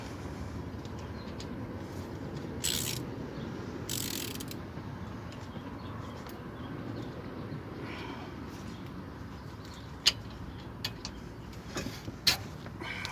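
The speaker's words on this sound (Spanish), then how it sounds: "Con una llave de 7, por lo menos en este caso, vamos a aflojar la parte de atrás de la pinza." A rear brake caliper bolt is loosened with a 7 mm wrench, giving faint metallic ratcheting and mechanism clicks with a few sharper ticks near the end over a low steady background.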